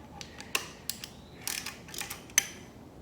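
Bolts on an oil pump being loosened on an engine in a garage: a series of close ratchet clicks and metallic ticks in short irregular bursts, with one sharper knock.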